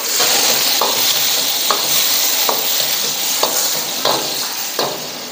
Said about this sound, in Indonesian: Bawang putih. Sedikit bawang Holland kita tumis.